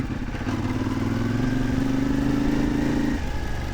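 CF Moto 450 MT motorcycle engine revving on sand, a close mid-pitched drone that climbs steadily for a few seconds and then drops back, with no talking.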